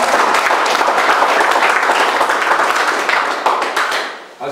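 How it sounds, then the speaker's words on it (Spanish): Loud, dense applause from an audience at a municipal ceremony, a steady wash of many hands clapping close by that thins out near the end. "aquí recibimos con un fuerte aplauso"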